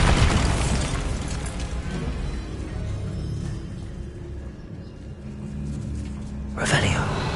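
A Bombarda spell explodes in Hogwarts Legacy, a loud burst opening into a long, dense rumble that rolls on for several seconds before a second sharp blast near the end.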